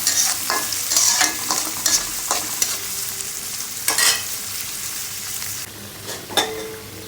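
Black mustard paste is stirred into greens from a rooftop garden frying in a pan: a loud steady sizzle with repeated scraping strokes of the spoon, close up and without talk.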